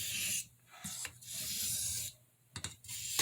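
A pen blade on a Boker Red Jig Bone C75 pocketknife is drawn across a sharpening stone in steady back-and-forth rasping strokes. Each stroke is a close, clear scrape, with brief pauses between passes.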